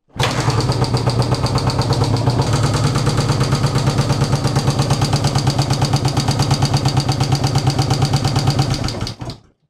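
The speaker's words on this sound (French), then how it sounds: "je suis à 1200 tours, hein, c'est vraiment proche d'un ralenti" An engine idling at about 1200 rpm while its carburettors are being synchronised runs loud and close with a steady, rapid pulsing beat that holds for nearly ten seconds before cutting off abruptly.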